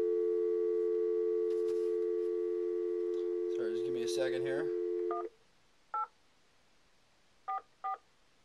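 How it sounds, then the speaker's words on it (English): A steady telephone dial tone drones for about five seconds, then a few short touch-tone beeps follow as a 1-844 number is dialed. A voice speaks briefly over the dial tone. "So, we're gonna call his phone number."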